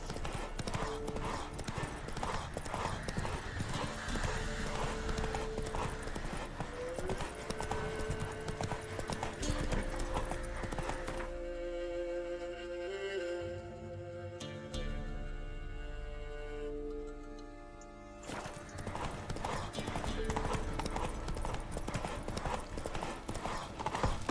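Horse hooves clip-clopping steadily as a rider travels in the video game The Witcher 3: Wild Hunt, a continuous close rhythm over game music and ambience, with a quieter stretch in the middle.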